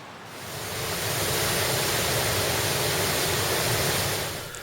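Waterfall on the Isle of Skye after rain, a dense continuous roar of falling water that swells in and holds steady without voices.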